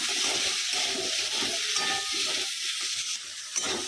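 Ground cumin, turmeric and Kashmiri chilli powder stirred in a frying pan, a steady close sizzle with scraping strokes running throughout, no talk.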